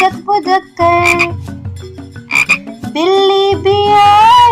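Frog croaking in a kids' nursery rhyme song, loud repeated croaks woven through a sung melody with bouncy musical accompaniment.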